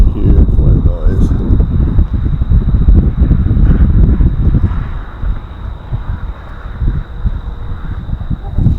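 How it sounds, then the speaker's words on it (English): Loud, blustery wind buffeting the microphone in uneven low rumbles, strong at first and easing slightly later, with a faint steady whine behind it. "Probably huge wind noise."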